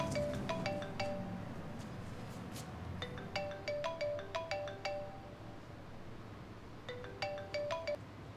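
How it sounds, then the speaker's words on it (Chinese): An incoming call sets off a mobile phone ringtone indoors: a fairly faint melodic jingle plays in repeated bursts of quick notes with short pauses between them, and no one speaks over it. "我接个电话"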